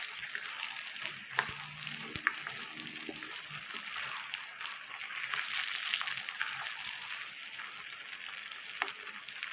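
Chopped onion and tomato fry in a pan with salt, a steady close sizzle and crackle with occasional stirring clinks and scrapes, no talking.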